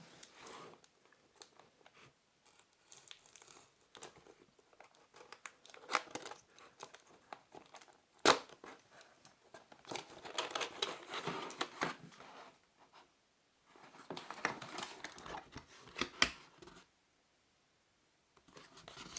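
Cardboard box of a Perixx PERIDUO-211 wired keyboard and mouse set being opened, with faint crinkling, tearing and rustling bursts spread across the clip, quiet and close, with pauses between.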